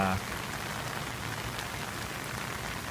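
Steady rain falls on a spring garden, a dense, even hiss of drops striking plants and ground, constant and close throughout with a brief louder burst at the start.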